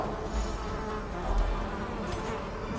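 Giant mosquitoes in Darkest Dungeon give off a steady, close insect buzz that drones on without a break, with small swells in the hum and no voices.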